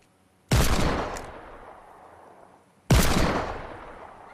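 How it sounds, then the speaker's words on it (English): Two heavy hand cannon shots in Fortnite, each a sharp loud blast followed by a long decaying rumble, spaced a little over two seconds apart, with no voices. "This hand cannon's like more like a sniper. It uses sniper bullets though."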